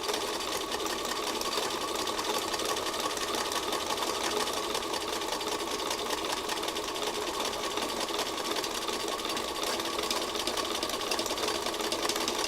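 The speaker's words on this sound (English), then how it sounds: "A sewing machine is just a tool." A sewing machine whirs steadily for the whole stretch, a dense, even mechanical buzz with no pauses and no talking.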